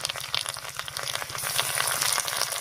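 Potatoes fry in a pan with ground spice pastes such as ginger-garlic and onion paste, a close, continuous crackling sizzle that grows slightly busier toward the end.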